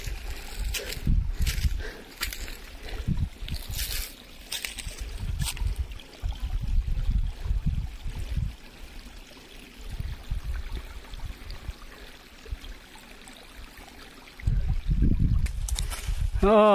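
Spring water at a drinking-water source in a mountain village in Mugu district, Nepal, rushing in a steady stream, with loud gusty rumbles of wind buffeting the recorder in bursts.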